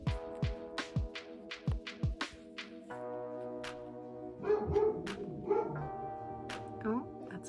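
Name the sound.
dog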